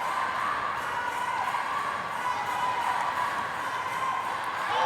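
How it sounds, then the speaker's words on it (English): Crowd at a table tennis match cheering and calling out encouragement, a steady continuous wash of voices filling the whole span without letting up. "just listen to the crowd encouraging"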